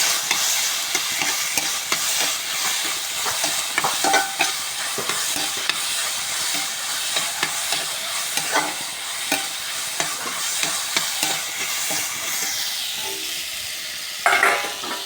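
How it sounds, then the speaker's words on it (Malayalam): Ripe banana pieces sautéing in a hot pan for poovada, a busy sizzle with frequent scraping and stirring clicks from a utensil throughout, fairly loud and close, with no talking. "നമുക്കിത് പഴം ഒന്ന് വാട്ടി എടുക്കണം നല്ലോണം പറ്റി പറ്റി കൊടുക്കട്ടോ"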